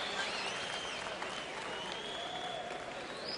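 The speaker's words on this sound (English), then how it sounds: "being cheered by the crowd" Boxing arena crowd cheering and applauding steadily at a fight card in California, a dense continuous roar of claps and voices filling the space throughout, loud and sustained without a break.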